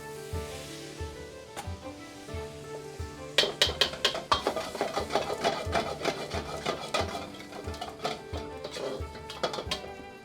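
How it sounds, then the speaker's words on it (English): Chicken 65 is stirred and mixed in a pan, giving rhythmic scraping and clinking strokes over a soft sizzle, with faint background music and no speech. "Just mix it together like this."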